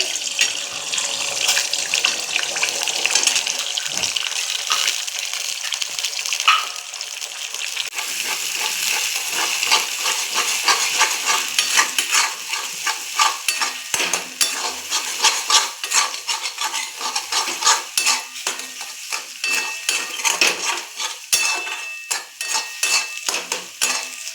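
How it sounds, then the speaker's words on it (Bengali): Egg poured into a wok in a home kitchen while making pasta, giving a steady close sizzle with a continuous scraping and clinking of a utensil against the pan throughout. "ডিমটা দিয়ে দিচ্ছি কড়াইতে"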